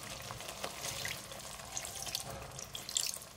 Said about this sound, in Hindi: अब मैं इसकी हल्की सी ग्रेवी के लिए पानी डालूंगी